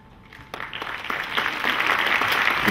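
An audience claps at an honouring ceremony, the applause starting abruptly and building into a dense, steadily louder wash of many hands.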